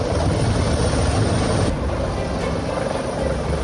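Army Chinook and MI-17 helicopters hover over Uttarakhand's Uttarkashi during a rescue operation, making a steady, loud rotor and engine roar that holds without a break.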